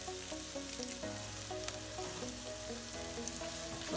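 Spices sizzling in a hot pan while making tofu tikka masala, a steady close frying hiss running throughout with faint music in the background.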